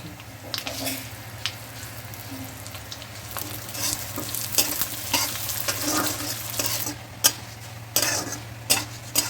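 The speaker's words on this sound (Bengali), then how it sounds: "শুকনো লঙ্কা তেজপাতা ফোড়ন দিচ্ছি পাঁচ ফোড়ন দিচ্ছি এবার আমি মুগ ডাল দিচ্ছি" Mung dal frying in hot oil with dried red chillies, bay leaf and panch phoron, with a steady sizzle under repeated scraping and stirring clatter close by and no talk.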